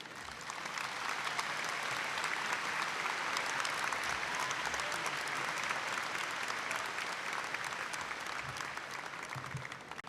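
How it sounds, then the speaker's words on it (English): A large crowd at the Murray State University May 2015 commencement applauds a speaker, a broad, sustained roar of clapping that holds steady for about ten seconds. "Again, a round of applause for the recent member of the class of 2015, Governor Beshear."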